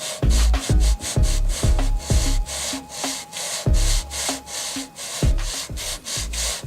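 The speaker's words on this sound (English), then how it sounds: "I guess you can say you're getting into a sanding chi." Hand sanding of a chip repair on mahogany furniture makes rhythmic back-and-forth rasping strokes, about two per second, close and distinct with brief gaps between them.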